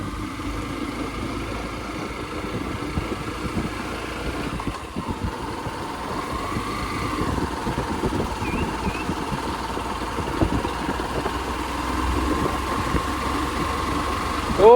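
Car engine labouring in gear on a hill road, a steady low droning hum with slight shifts in pitch as it pulls, moderately loud and continuous without talk.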